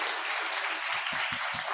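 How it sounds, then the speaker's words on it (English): Audience applause at a talk on the business of online education, a moderate steady patter of many hands clapping, slightly distant, with a few low thumps near the end. "please give a big applause to Dhawal one more time"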